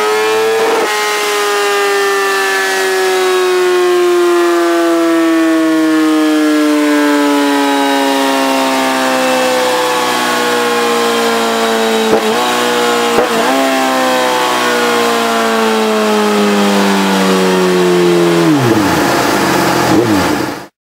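A Suzuki Gixxer 1000 motorcycle revs hard on a dyno. The engine pitch climbs steadily in one long, loud wide-open pull, with a couple of brief shifts along the way, then cuts off abruptly at the end.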